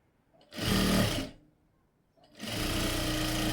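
A sewing machine stitches through twice-folded blouse fabric, running in two steady bursts separated by a short pause, close and loud with no talking.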